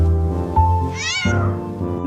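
A cat on a farm meows loudly and close by, one drawn-out meow with a rising, wavering pitch, with no other sound around it.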